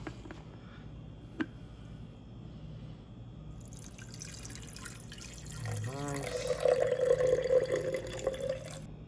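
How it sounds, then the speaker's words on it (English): Brewed coffee poured over ice in a glass for an iced coffee: a few faint clicks and drips first, then a louder, continuous pouring trickle over the last few seconds. "Let's go ahead and pour the coffee over that."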